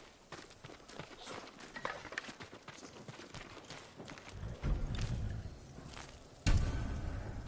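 Samurai horses in the game Ghost of Tsushima, hooves clip-clopping in a quick, uneven rhythm over soft ground, moderately close, with a few heavier thuds and shuffles toward the end.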